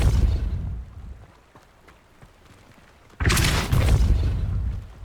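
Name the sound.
Depulso spell cast in Hogwarts Legacy video game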